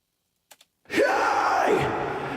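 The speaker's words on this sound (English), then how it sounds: "It's a scream and with a lot of reverb on it" After two soft clicks, a loud screamed voice bursts in and rings out, drenched in a long, washy reverb tail.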